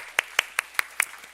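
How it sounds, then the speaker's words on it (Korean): A middle-school church congregation claps in thanks during a worship service, heard as five or six evenly spaced, crisp claps at a steady rhythm, moderately quiet against a hushed room. "오늘까지 인도하신 우리 하나님께 감사의 박수 같이 한번 하겠습니다."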